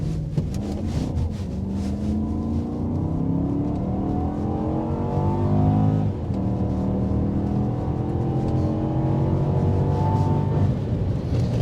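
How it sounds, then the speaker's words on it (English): A Volvo S80 with a V8 engine accelerates along the road, its deep engine note rising steadily through the gears in a strong, continuous roar heard from inside the car, with no talk over it. "let's have a feel for how that engine goes down the road"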